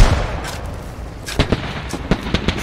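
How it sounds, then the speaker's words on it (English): Helicopters trade gunfire in the military shooter game Squad, a Black Hawk against a friendly helicopter, with sharp bursts of shots and booms over a steady engine drone, the reports sounding fairly close. "It's a Black Hawk versus one of ours. They're just shooting guns at each other."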